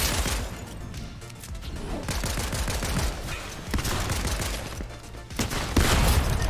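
Shotgun blasts from a Fortnite match, several loud close shots in quick succession over dense in-game clatter and impacts, with a burst of heavier firing near the end.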